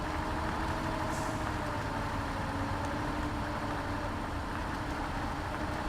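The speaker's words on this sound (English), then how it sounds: "That sounds like a big truck." A big off-road truck idles and rumbles in the mud-driving video game SpinTires: MudRunner, a steady low droning engine note that holds constant throughout with no talk over it.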